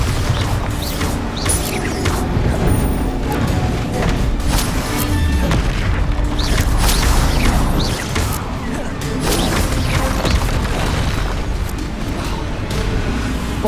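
Repeated Bombarda spell blasts in the video game Hogwarts Legacy, loud crashing booms and impacts in a dense, continuous battle mix.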